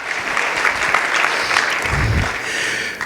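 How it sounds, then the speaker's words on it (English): Audience applause for the staff at the ng-conf 2016 tech conference: a steady, dense clapping from a large crowd that fills the room at close range and holds for the whole stretch. "Round of applause for the staff, right?"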